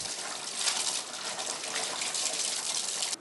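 Household wastewater gushing steadily from a pipe into a stream near Đầm Bài lake, a close, bright, continuous rush of falling water that cuts off abruptly at the end.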